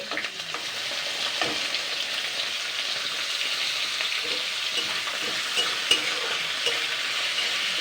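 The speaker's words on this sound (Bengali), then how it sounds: "আলুটাকে আগে জাস্ট আমি 2 থেকে 3 মিনিট হালকা নাড়াচাড়া করে নেবো, ভেজে নেবো।" Peeled, sliced potatoes fry in oil in a wok, giving a steady bright sizzle with occasional soft stirring clatters, close and continuous, with no voices.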